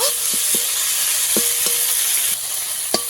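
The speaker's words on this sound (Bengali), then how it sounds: "টমেটোটাকে আমি ভালো করে একটু ভেজে নেব" Tomato frying in a kadai over a wood-fired clay stove, with a steady close sizzle and a few sharp scrapes and knocks of a spatula stirring against the pan.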